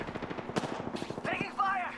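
Video game gunfire crackles in rapid bursts of close shots, with a player's voice talking over part of it.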